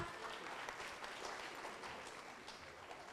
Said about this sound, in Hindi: इन सब के लिए एक बार और जोरदार तालियां।